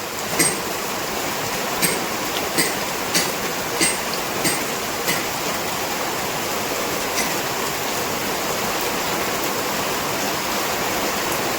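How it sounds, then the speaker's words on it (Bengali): Heavy rain pours steadily onto the tin roof of a house during a thunderstorm, a dense, continuous roar. A few sharp knocks or drips stand out near the start. "আর বৃষ্টিও প্রচুর জোরে পড়ছে।"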